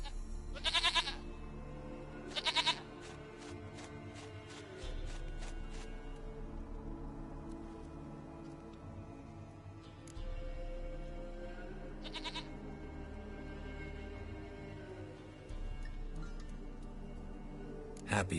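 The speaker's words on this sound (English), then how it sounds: "Goat of mine, dearest, sweetest goat." A goat bleats in The Witcher video game, several short quavering cries spaced a few seconds apart over a steady bed of game music and ambience.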